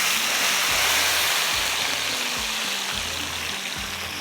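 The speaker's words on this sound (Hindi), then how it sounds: "ये देख लीजिएगा, अदरक फ्राई हो रही है, कलर आ रहा है अदरक का।" Ginger frying in hot oil for a mutton tarka, a loud, close, continuous sizzling hiss with a low rumbling hum beneath.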